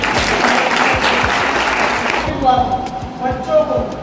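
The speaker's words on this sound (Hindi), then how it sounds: "2000 ताली बजाते" Audience clapping at a college startup program event, a burst of dense applause for about two seconds that gives way to someone speaking.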